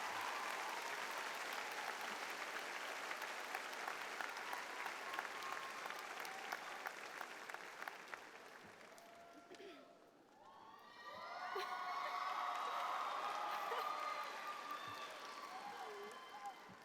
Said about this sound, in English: Thank you so much for that really nice round of applause.